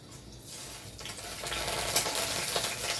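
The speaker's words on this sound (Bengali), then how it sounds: "প্রথমে কড়াই গরম করে সর্ষের তেল দিয়ে দিচ্ছি জিরে, তেজপাতা আর শুকনো লঙ্কা সম্বার।" Cumin, bay leaf and dried red chilli hit hot mustard oil in a kadai, starting quieter and swelling into a steady, bright crackling sizzle that continues alone.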